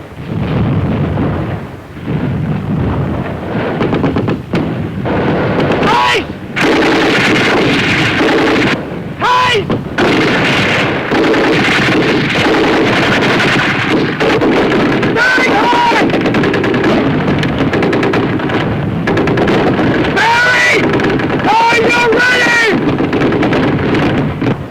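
Sustained covering gunfire and artillery in a WW2 U.S. Army rifle platoon training film: loud, dense rattling fire with heavy booming blasts, continuous and rumbling throughout.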